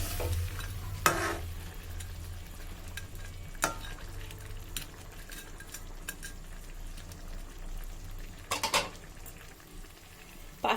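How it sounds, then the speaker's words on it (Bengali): Fried rohu fish pieces go into a simmering taro curry, with a quiet bubbling sizzle under occasional clinks and scrapes of a spoon against the pan. "এবার আমি মাছ ভাজাগুলো দিয়ে দেব।"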